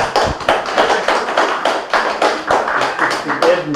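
Audience applause for a speaker introduced at a local history gathering about St. Paul Lutheran Church in Lanesville, a steady patter of clapping from a modest crowd with some voices mixed in.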